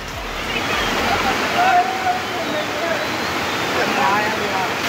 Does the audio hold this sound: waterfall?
yes